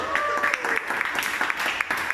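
Applause for actors after a filmed scene at a preacher-training session, scattered claps from a modest group, near and fairly loud, with voices and a brief tonal sound layered over the clapping.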